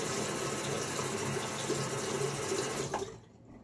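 A tap runs steadily as a Timeless .95 safety razor holding a Gillette Nacet blade is rinsed under it. The close, even rush of water lasts about three seconds, then cuts off abruptly.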